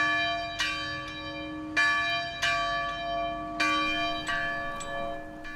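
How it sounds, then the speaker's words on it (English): Church bells ring at an afternoon memorial for the Robb Elementary School shooting victims in Uvalde, with clear bright resonant strikes at uneven intervals, each note ringing on and decaying over a faint background, with no talking. "Church bells ringing this afternoon at 12:49 to mark the time the gunman was killed by law enforcement officers."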